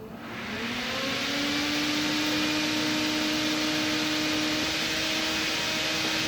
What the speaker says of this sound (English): the fan is actually running non-stop with the ignition on